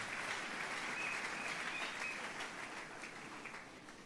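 A church congregation applauds steadily at a service, a dense wash of clapping that holds at an even level throughout and fades slightly toward the end.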